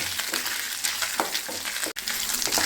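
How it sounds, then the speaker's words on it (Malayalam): Small coconut pieces sautéing in a pan for parippu payasam, a close, steady sizzle with occasional stirring scrapes and one brief dropout, no voices. "ഒരു രണ്ട് സ്പൂൺ തേങ്ങാക്കൊത്ത് ചേർത്ത് കൊടുക്കാം ചെറിയ രണ്ട് സ്പൂണാണ് ഒന്ന് വഴറ്റിയെടുക്കാം നമുക്കൊന്ന് മൂപ്പിച്ചെടുക്കാം"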